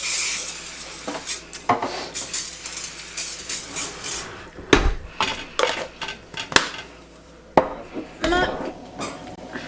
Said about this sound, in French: Voilà, j'ai mis le gaufrier en route. Je vais le graisser un tout petit peu. On va faire cuire les gaufres.